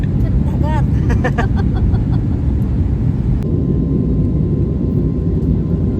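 Steady loud roar of airplane cabin noise filling the whole stretch, with a few brief high chirps and tones near the start.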